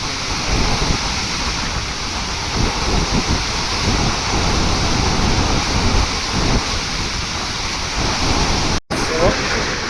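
Massive pump motors at Mallanna Sagar discharging water, a dense, roaring rush of gushing water that stays loud and steady throughout, broken only by a brief cut near the end.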